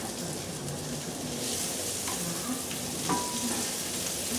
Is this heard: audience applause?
no